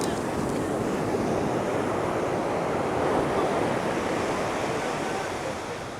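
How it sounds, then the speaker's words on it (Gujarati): Rough, dangerous sea waves surge at Madhavpur beach, a loud continuous roar of surf with wind buffeting the microphone, easing slightly toward the end, with no voices over it. "બહુ ખતરનાક મોજા આવે છે ભાઈ"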